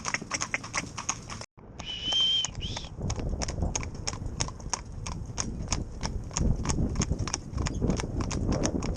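Hooves of a tandem-driven pair of horses, one leading the other, clop in a brisk, even rhythm close by, continuing steadily after a brief dropout, with a short high tone early on.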